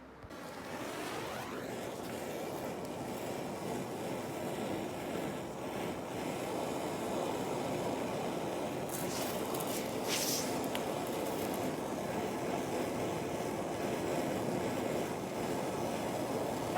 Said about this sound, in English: using a torch to heat up the bolt